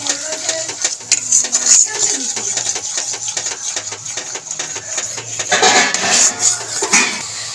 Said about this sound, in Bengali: ভালো করে নাড়িয়ে নেব মশলাটাকে।